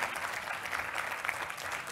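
Students at an evening dialogue session at a Nobel Prize event in Singapore receive applause from the audience, a steady, dense wash of clapping that holds at an even level for a couple of seconds.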